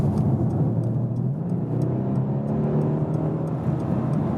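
A Mercedes-AMG C63 S coupé with its V8 pulls out to overtake, giving a steady, close engine drone with a rising rev.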